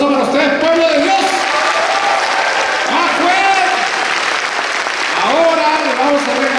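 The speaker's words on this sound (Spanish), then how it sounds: "yo quiero que ustedes se den el aplauso, mega aplauso más grande del mundo" Loud, sustained applause from a large church congregation at a Pentecost service, with voices shouting and cheering over the clapping throughout.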